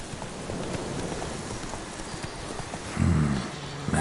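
Geralt's horse Roach gallops in the video game The Witcher 3, a steady run of hoofbeats over soft background noise, with louder, heavier thuds near the end.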